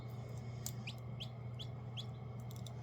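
A newly hatched baby silkie chicken chick gives a series of high, thin peeps, five or six short calls spaced irregularly over a low steady background hum, close and fairly quiet.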